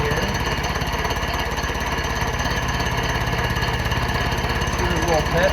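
A cutting tool removes rust from the cylinder sleeve of a Honda K-series engine block during a pinned deck conversion, producing a loud, continuous rattling buzz close by that stays even throughout.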